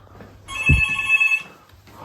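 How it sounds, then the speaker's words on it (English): A hotel room telephone in Malta rings close and clear in a single electronic trill lasting about a second, with a soft thump and faint room noise around it. "Oh, where's the phone? It's a phone call."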